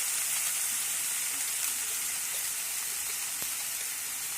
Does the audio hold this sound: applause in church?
no